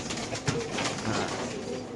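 Racing pigeons cooing softly in a coop, a few low murmuring coos close by over a faint background hum, no speech.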